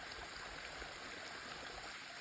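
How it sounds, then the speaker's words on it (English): Waterfall along a mountain trail, swollen after recent rain, heard as a steady, soft rushing of falling water at a distance with no talk. "One of the many waterfalls we've seen along the trail today."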